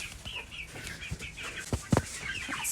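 Backyard chickens clucking in a fenced run during weekend chores, with soft scattered clucks and a couple of sharper, louder calls near the end against faint background noise.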